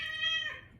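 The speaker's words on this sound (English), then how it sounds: "please excuse the cats" A house cat gives a single drawn-out meow, fairly clear and close, fading off quickly with no talking.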